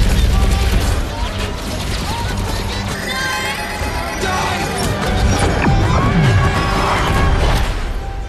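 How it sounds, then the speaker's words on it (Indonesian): Sci-fi plasma cannon blasts firing to tear open a wormhole, a dense roar of crashing, whooshing energy bursts with layered impacts and rising tones running continuously, loud and full, with a voice talking over parts of it. "duo Adam langsung tancap gas menembakkan meriam plasma untuk membuka lubang cacing"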